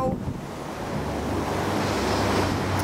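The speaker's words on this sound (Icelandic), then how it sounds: "farið að lækka aftur í ánni Rother River sem að fór hér yfir allt" The flooded River Rother at Midhurst in 2014: a steady, broad rush of flowing water mixed with gusty wind noise on the microphone, loud and continuous throughout, with no talking.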